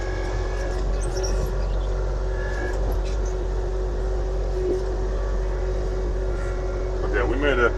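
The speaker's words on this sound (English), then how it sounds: "let's drive away from here because I don't want to get more stuck than we already are" A car engine droning steadily and loudly at close range as the car drives away after being stuck, with a low continuous hum and a brief voice near the end.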